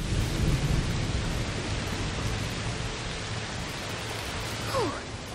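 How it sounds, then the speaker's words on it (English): Heavy rain pours in a thunderstorm in A Plague Tale Requiem, a loud continuous hiss with low thunder rumbling beneath, and a brief higher sound near the end. "Oh, it's raining a lot. Yes, must be a heat storm."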